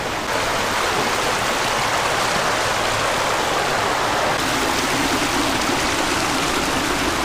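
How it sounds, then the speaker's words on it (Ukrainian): Loud, steady roar of an artificial two-metre waterfall pouring into the Hirskyi Tikych river in the Buky canyon, dense broadband rush throughout with no voices. "штучний водоспад 2 метри"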